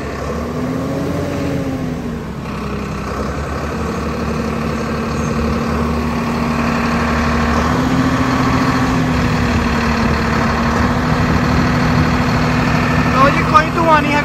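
A Swaraj 969 CRDi tractor engine runs steadily at a set speed around 1600 rpm, a continuous throbbing hum that rises slightly later on, with people talking over it.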